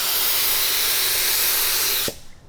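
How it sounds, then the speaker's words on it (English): A loud, steady hiss of an aerosol can spraying hydrographic film activator for about two seconds, then it cuts off abruptly. "So I'll go ahead and spray the activator."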